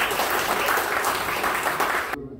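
Audience applause at a Christian businessmen's church praise festival, steady and loud for about two seconds before cutting off abruptly.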